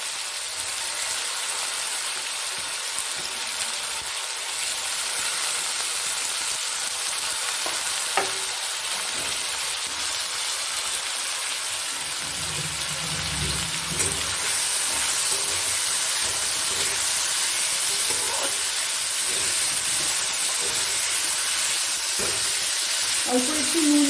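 Chopped beans, carrots and other vegetables sizzle and fry steadily in a hot pan for meatless street-style chow mein, a continuous loud hiss with occasional stirring clatter.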